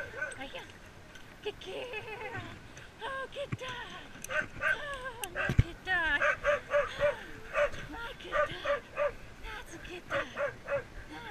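Sled dog during a bikejoring race in Alaska gives repeated short, close barks and high yips in a rhythmic series, with whimpers, while a person talks to it.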